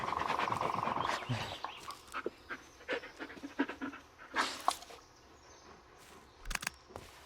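Dog panting in the Blair Witch video game, with quick, rough breaths close by, a few scattered clicks and thumps, and a brief tone at the start.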